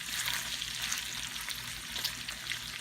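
Bacon cooking over low heat in a frying pan, giving a steady, close sizzle with soft crackles and pops that holds evenly throughout, with no talking.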